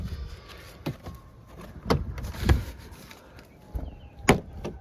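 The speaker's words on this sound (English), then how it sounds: "don't worry, the sound is fine. It's just the clips." Plastic door panel clips on a 2005-2018 Nissan Frontier popping loose one after another, giving several sharp cracks and thumps spaced irregularly over quiet background handling noise.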